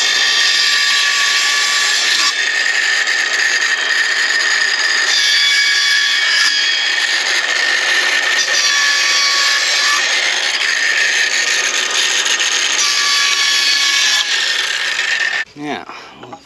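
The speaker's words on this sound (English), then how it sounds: "I'll cut some vertical slits in this pipe and then in the rest of the riser pipe" A blade cuts vertical slits into a plastic riser pipe with a harsh, continuous rasping drone, loud and close, varying slightly with each stroke before stopping near the end.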